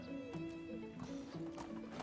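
A horse in Medieval Dynasty clip-clops along at a steady trot and lets out a short whinny, hoofbeats close and clear over a faint game backdrop.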